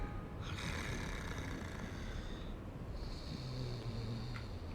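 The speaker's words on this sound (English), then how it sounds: "Sounds like something is snoring here." A creature in Dark Souls snores in a dim parish area, giving two long, rough breaths, one drawn in and one pushed out, each trailing into a hiss over steady low ambient rumble, with no talk.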